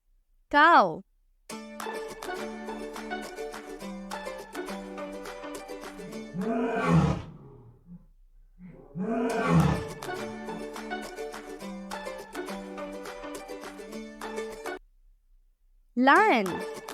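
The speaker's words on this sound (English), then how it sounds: "lion" A lion roars twice, two deep rumbling bursts in the middle of the stretch, laid over a constant bright, tinkly music bed with brief chime flourishes at start and end.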